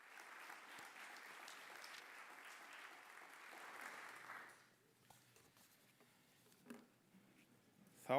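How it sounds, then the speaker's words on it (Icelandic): A graduation ceremony audience at Keilir gives the standing graduates a steady round of applause that holds for about four seconds, then fades to scattered claps and a quiet room. "Útskriftarnemar, vinsamlega standa upp og við hinn skulum gefa þeim gott klapp."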